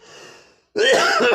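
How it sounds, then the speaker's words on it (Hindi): Coughing from a cold and weather-related congestion: a faint rasping breath first, then a loud, close burst of harsh coughs lasting under a second, with no talk over it. "खांसी जुकाम।"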